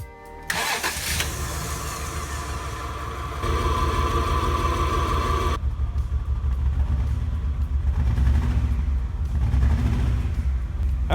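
A 1988 Acura Legend engine cranks and starts after a tune-up with new cap, rotor, fuel filter and plug wires, then settles into a rough, uneven idle with a lumpy, tractor-like rumble close by.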